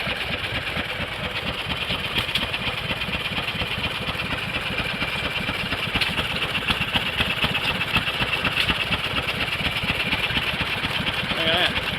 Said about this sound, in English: this one apparently is some sort of water pump